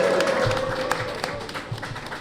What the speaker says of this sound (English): can I have a warm round of applause for Alex Song, Victor Wanyama, Mr. David Dean,